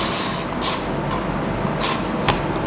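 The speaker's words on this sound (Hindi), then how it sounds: "ओसिस का स्प्रे करेंगे" Oasis hairspray is sprayed onto hair in several short, loud bursts. Two longer hisses are followed by a couple of brief puffs over a steady background hum, with no talking.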